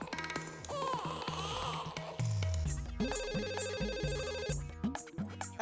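A telephone rings with a repeating electronic ringtone over a background music track, the ringing pattern steady and fairly close.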